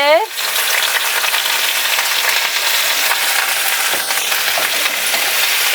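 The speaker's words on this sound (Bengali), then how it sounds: "আর একটু তেল দিয়ে দেবো রসুন ভাজবো" Garlic fries in hot oil, a loud steady crackling sizzle that flares right after a brief clink at the start and continues evenly up close, with no talking.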